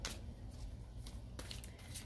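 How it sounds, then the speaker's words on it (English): Tarot cards being shuffled by hand make faint, soft rustles and quick riffling bursts close by, against a quiet low hum. "I'm just shuffling the cards."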